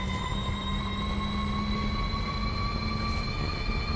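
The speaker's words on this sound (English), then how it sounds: "Mate, why does it sound like a V10 engine?" In-game engine of a 1,100-horsepower car in Forza Horizon 5, during a top-speed run, with a V10-like tone: a loud, steady high-revving drone with sustained harmonic whine and no pauses.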